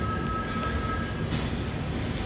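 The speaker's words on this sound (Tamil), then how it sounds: "ட்ரெயின் கங்காவாலி ஸ்டேஷனில் இருக்குது." A passenger train at Gangavali railway station gives off a loud, continuous low rumble with a faint thin whine running through it, steady throughout and heard from on board.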